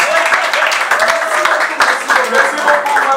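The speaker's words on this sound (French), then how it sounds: "Applaudissez pour lui." An audience at an inauguration ceremony for a building's headquarters in Cameroon applauds, a steady spread of many hands clapping with crowd voices and murmuring mixed in.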